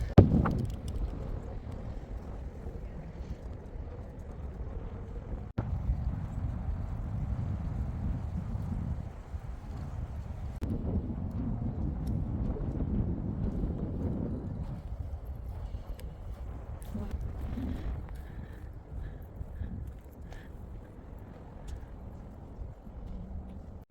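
Steady wind buffets the microphone outdoors in Utah for the whole stretch, a low rumbling roar that swells and eases, with no clear voices.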